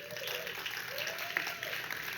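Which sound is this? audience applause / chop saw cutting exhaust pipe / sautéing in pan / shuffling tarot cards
audience applause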